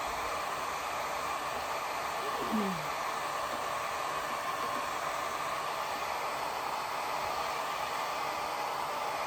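A hair dryer blows steadily on a watercolor painting of a rose, a constant close whooshing hiss without a break, with one brief faint sound partway through.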